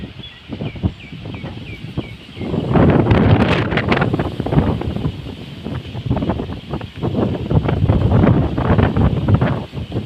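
Strong gusty storm wind at 35 to 40 km/h roaring close to the microphone in loud surges, building up and buffeting continuously.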